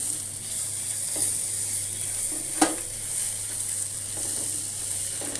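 Ginger garlic paste fries with lightly browned onions in a pan for a vegetable biryani, producing a steady close sizzle with a few soft stirring scrapes and one sharp clink, and no talking.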